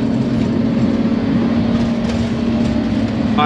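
An orange train arrives at a Pakistani junction where modern and conventional railways meet, producing a steady, close rumbling drone with a sustained tonal hum and no speech.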